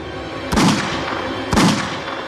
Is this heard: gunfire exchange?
yes